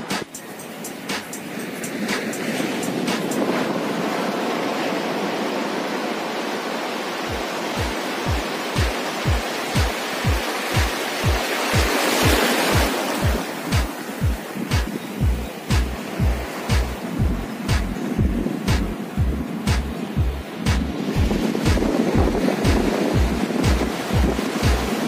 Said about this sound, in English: you can actually listen to the sound of water.